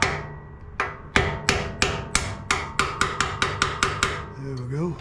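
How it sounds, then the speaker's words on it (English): A small hammer taps on the metal of a Honda GCV190 engine on a Craftsman pressure washer, about a dozen crisp, ringing strikes in a steady, slightly quickening rhythm, close and clear, then a brief scrape. "A little hammer."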